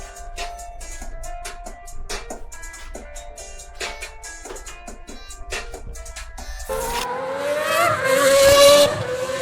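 RC drag race cars, a 500E and a '68 El Camino, whining as they race down the strip, a rising electric-motor pitch that sweeps and swells loudest near the end.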